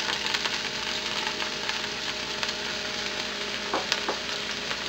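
Minced onions sizzling in hot olive oil in a pan, a steady, bright crackle with a few sharp pops and faint stirring, no voices.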